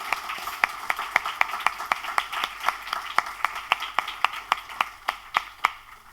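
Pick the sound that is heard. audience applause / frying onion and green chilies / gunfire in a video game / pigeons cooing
audience applause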